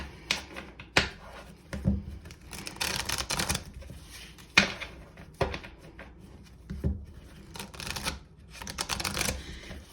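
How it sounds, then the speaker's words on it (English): Tarot cards are shuffled in sharp, irregular riffles and snaps, close and crisp, with quieter gaps between bursts. "All right, so while I shuffle, I invite you to have your question in mind."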